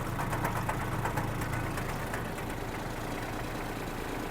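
A Kubota A-195 mini tractor's small engine runs steadily at close range, a continuous knocking idle with a low rhythmic throb and no talk over it.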